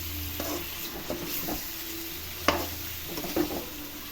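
A spoon stirs plantain curry with tamarind juice in a hot pan, soft scraping strokes over a faint sizzle, with a couple of sharper clinks against the pan.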